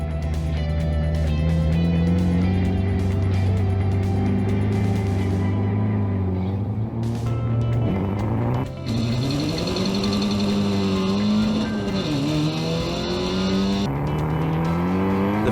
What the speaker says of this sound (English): The first 2 rows away well with Brewer launching into the lead